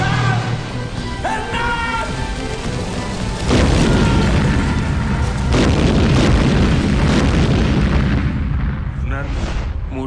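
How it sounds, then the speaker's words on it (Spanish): A motorboat blown up as an explosion sound effect in a TV drama booms deep and heavy, with a rumbling roar that swells midway and rolls on, mixed with dramatic scoring and a brief voice at the start. "a explotar esta lancha para destrozar el arrecife"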